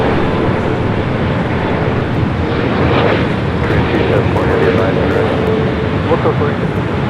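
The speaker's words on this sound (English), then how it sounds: "France Flight 24 coming up from Paris, a 20-year-old 777 at 300ER is your next arrival on the north side." An Air France Boeing 777-300ER, about 20 years old, arrives at LAX on the north side with a loud, sustained engine roar, and a voice talks over it.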